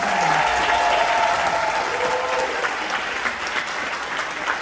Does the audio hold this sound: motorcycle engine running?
no